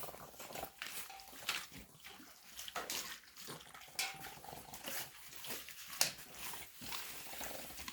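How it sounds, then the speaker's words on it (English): A raw-fed pack of dogs eats raw meat, tearing and ripping it apart with wet smacking, chewing and crunching noises that come in irregular bursts close by. "You got to stay away from the other dogs eating."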